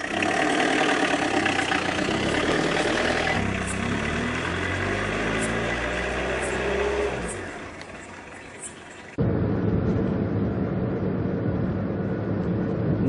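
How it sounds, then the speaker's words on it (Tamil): A vehicle engine idles steadily and close, its rumble shifting partway through before the car drives off, with no talking over it. "வண்டியை தானே எடுக்க போறேன்."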